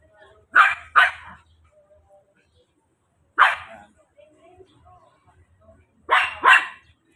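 Two dogs bark on a walk through a Tondo neighborhood, sharp close barks in a quick pair, then a single bark, then another quick pair, with quiet gaps between.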